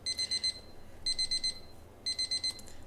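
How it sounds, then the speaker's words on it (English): A reading timer's alarm beeps in three bursts of rapid high electronic pulses, each about half a second long and spaced about a second apart, loud and clear over a quiet background. "This is where the timer went off"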